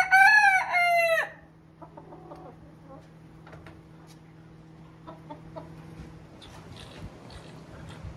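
A hen calls loudly after laying an egg, with a sharp burst of cackling in the first second, then only faint, scattered clucks over quiet background noise.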